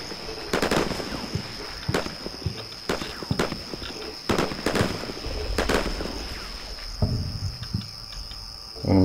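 Weapons fire in Combat Mission Shock Force with a US Marine beach recon against Syrian forces, heard as several sharp, separate gunshots spaced a second or two apart over a steady insect-like hiss, with a louder burst near the end.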